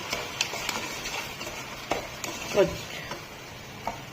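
Sugar syrup of one cup sugar and half a cup water being stirred in a kadai, a soft scraping swirl with faint ticks and clinks, steady and close, with brief low murmurs in the background.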